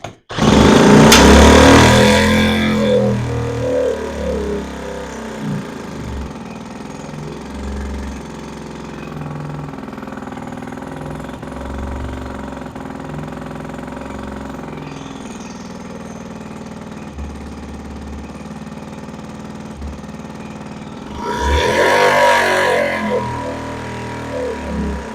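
A two-stroke Johnson Seahorse outboard motor runs with a steady, buzzing idle up close, revving louder at the start and again near the end.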